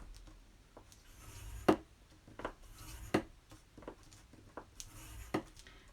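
Paper scored with a scoring tool for an 8x10-inch men's memory book, a faint series of soft scraping strokes heard up close at irregular intervals in a quiet room, with no talk.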